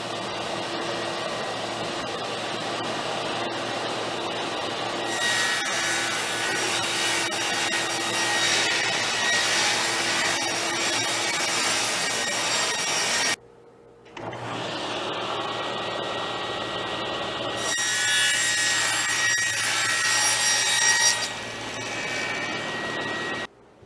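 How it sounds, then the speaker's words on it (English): A saw rips a plywood sheet into long strips while a chest of drawers is being built: two long, loud, continuous cutting passes, close by, split by a short pause with no talk. "So I'm going to have to cut the width out of long strips and then cut these widths here individually."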